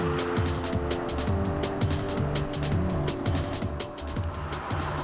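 A Mercedes-Benz SLK 200 Kompressor pulls away jerkily, its engine note rising and dipping in uneven surges while road and wind noise stay loud and steady inside the cabin.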